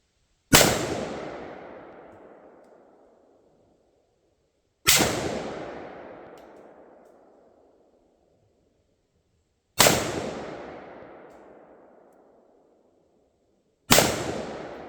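Pioneer Arms Sporter AK-47 rifle fires four single loud, sharp shots at spaced intervals of about four to five seconds, each followed by a long, fading outdoor echo, with no talking.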